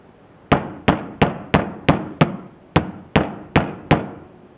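Ten sharp hammer blows strike an HPI Baja 5B SS axle against a desk edge in a steady, somewhat uneven rhythm, each hit ringing briefly before the next.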